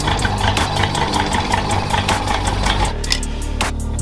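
An original-engine Renault 4L runs loudly and steadily up close with a rhythmic, knocking pulse, and its tone shifts slightly about three seconds in.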